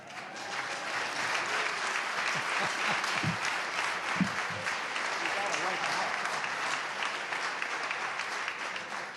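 Virginia legislators applaud the governor during the State of the Commonwealth address after the line on legalizing marijuana, a sustained, dense roar of clapping across the chamber, with a couple of low thumps and some voices underneath.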